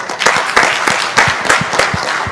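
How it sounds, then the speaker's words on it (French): Loud, close applause at an end-of-year ceremony for foreign students at a university in Bejaia, with many hands clapping in a busy, uneven patter. "Donc, je vous prie de l'applaudir."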